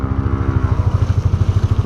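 A motorcycle engine idles close by with a steady, loping low thump that pulses evenly for about two seconds, with no voices over it.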